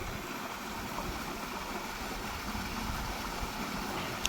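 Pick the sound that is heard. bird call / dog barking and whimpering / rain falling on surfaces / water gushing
water gushing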